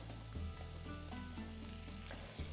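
Onions frying in a pan over medium heat while quails finish in the oven, a steady close sizzle with soft stirring clicks throughout, no voices.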